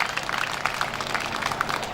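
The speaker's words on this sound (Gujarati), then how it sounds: "તાળીઓ થઈ જાય." An audience claps at a Bhagavad katha gathering, a steady, dense patter of many hands that holds evenly for about two seconds at moderate loudness.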